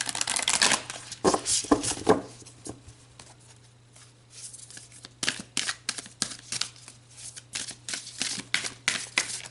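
A deck of tarot cards is shuffled at close range, giving a run of quick, crisp riffling bursts with short pauses in between, and no voices.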